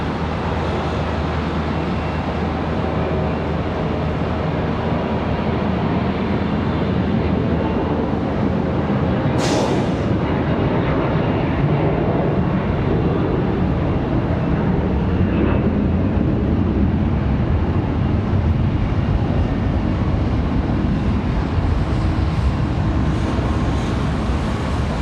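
CRJ regional jet at Charlotte Douglas airport, a steady broadband jet roar that holds loud and constant throughout, with a brief sharp high-pitched whine partway through.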